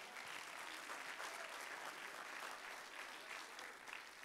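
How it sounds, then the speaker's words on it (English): A church congregation claps hands in worship, a steady, even wash of applause from many people that carries on without a break, soft in level and with no voices on top. "Clap your hand to the Lord."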